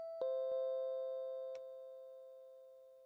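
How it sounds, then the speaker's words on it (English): A doorbell in the Cell of Empireo video game gives a clear electronic chime with a long sustained tone, struck once with faint clicks and fading slowly in a quiet room. "Someone's ringing the doorbell."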